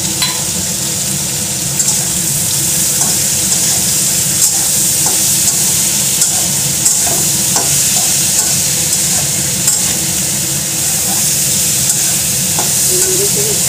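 Vegetables with salt, turmeric and three green chillies being stirred in a frying pan, a steady loud sizzle with scattered scraping clicks of the spoon throughout, no talking.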